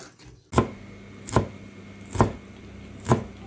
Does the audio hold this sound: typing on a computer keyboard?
no